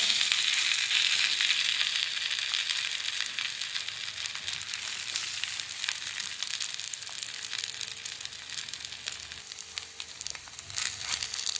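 Bread pizza sizzling on a hot tawa griddle, a steady bright hiss of frying that carries on throughout with faint crackles, close and even in loudness.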